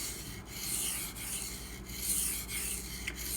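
D2 steel knife blade stroked across a 600 grit fried abrasive stone, a continuous gritty rasping with faint rhythmic stroke changes, close and alone.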